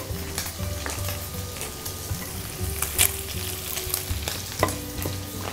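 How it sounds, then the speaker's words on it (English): Pancetta and sliced mushrooms sauté in a pan with a steady close sizzle and occasional utensil clicks and stirring scrapes, mixed with a low background tone; nobody speaks. "while the pancetta is sauteing, about 2 minutes in, you're going to add the sliced mushrooms and the whites of the green onions"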